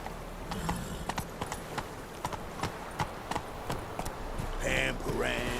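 Hooves of Roach, the horse in The Witcher 3, clopping in an uneven walking rhythm of sharp distinct strikes, with a burst of other game sound near the end.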